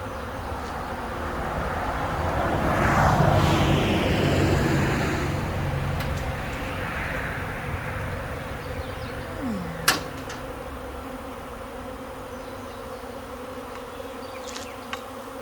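A honey bee swarm hums around a bucket being used to catch it high up, a dense buzzing drone that swells loud early on and then settles into a steady, quieter hum, with a sharp knock partway through.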